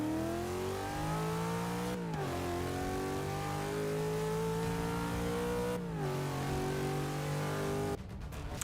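A naturally aspirated car in the Forza 6 racing game launches and accelerates, engine droning steadily upward through long gears with two clear upshifts, ending in a choppy burst.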